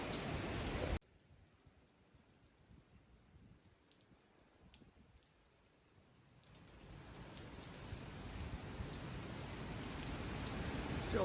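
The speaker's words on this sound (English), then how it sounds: "But it is still raining." Rain from Hurricane Delta falls in Central Louisiana as a steady hiss. It starts loud, drops to a quieter wash, then swells back to a heavy, constant downpour.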